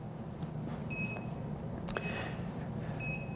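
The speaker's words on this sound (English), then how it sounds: "You should be able to hear the beeps." Short, faint electronic beeps from a car diagnostic tool sound a few times at a steady pitch over a low background hum, with no talking.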